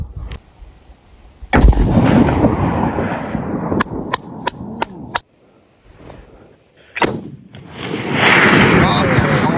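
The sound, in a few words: gunshot during jungle hunt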